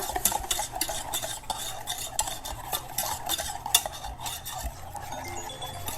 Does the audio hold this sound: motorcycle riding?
no